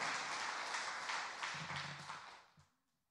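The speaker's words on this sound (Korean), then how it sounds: "박수." Audience applause in a church gathering, steady broadband clapping from a group that tapers off and fades to silence near the end.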